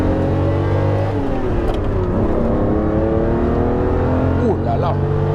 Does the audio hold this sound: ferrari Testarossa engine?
yes